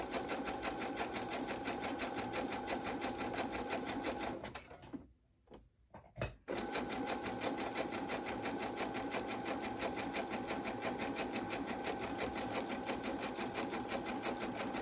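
A sewing machine stitches close by with a fast, even mechanical chatter that runs steadily, pauses briefly for a couple of seconds with small clicks, then resumes at the same rapid pace.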